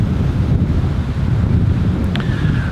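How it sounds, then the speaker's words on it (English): Steady wind buffeting the microphone at Lake Yövesi in September, a constant low rumble with gusty texture throughout, no voices. "pretty windy out here"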